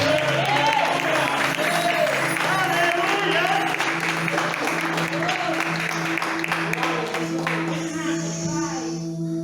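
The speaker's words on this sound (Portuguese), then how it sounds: "Aplauda o Senhor bem forte." Church congregation clapping steadily throughout a worship service, sustained and fairly close. Voices and sung or spoken tones ring over the applause.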